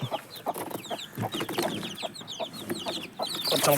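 A mother hen and her chicks released from a coop, with steady overlapping clucks and high chick peeps close by, continuous throughout with no talk.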